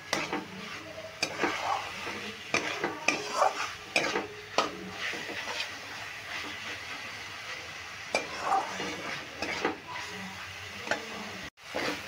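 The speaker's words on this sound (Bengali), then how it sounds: "এবার মাছটা দিয়েও একটু নেড়ে চেড়ে ভালো করে কষিয়ে নিচ্ছি।" Crisp-fried small mourola fish are stirred through spices in a pan, with repeated scraping and clinking of a spatula against metal over a soft background sizzle, close and irregular.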